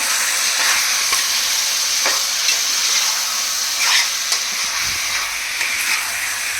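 Chicken with capsicum frying in a pan for curry while being stirred, a loud close sizzle broken by scrapes and clinks of the spoon against the pan, with no talking.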